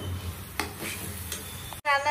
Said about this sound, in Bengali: মিক্সড করবো এটাকে ভালো করে।